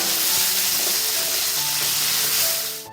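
Chopped onion and finely chopped tomato frying in a pan for Nilanga rice, giving a steady, close sizzle with soft stirring noises that fade slightly at the end.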